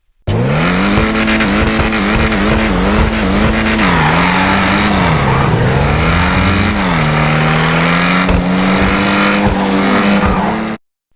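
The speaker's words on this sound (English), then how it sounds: "First off, I just want to say how exceptional the sound of this car is." A loud sports car engine in GTA 5 Online roars and revs continuously, its pitch rising and falling through gear changes, with occasional tire squeal.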